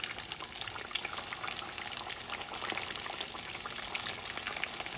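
Red snapper frying in hot oil gives a steady, close crackling sizzle with dense fine pops throughout, fairly quiet and with no talk.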